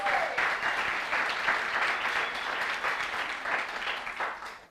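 Church congregation applauding, a dense, steady wash of clapping that stays loud and even throughout before cutting off abruptly at the end.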